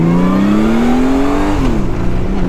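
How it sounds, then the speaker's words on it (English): A powerful six-cylinder touring motorcycle engine revs up smoothly and loudly, its pitch climbing steadily before dropping back as the throttle eases off. "listen to that sound. It's an amazing sound. Quick revving"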